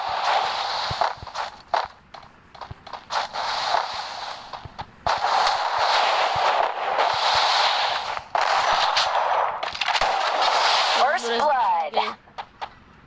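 Bursts of gunfire and footsteps in the video game Free Fire, rapid shots in repeated volleys over several seconds with brief pauses between, loud and close.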